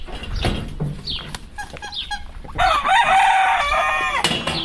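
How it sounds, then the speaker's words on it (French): A black Jersey rooster crows close by in a poultry yard, one full drawn-out crow following a few scattered clucks and squeaks, and nobody talks over it. "Et là vous pouvez voir de l'autre côté, il y a un coq Jersey."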